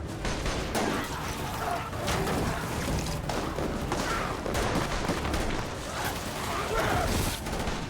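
Dense, continuous gunfire from a scene in The Last of Us TV series, shots aimed at barrels, with heavy rapid bursts and thuds filling the whole stretch loudly and steadily.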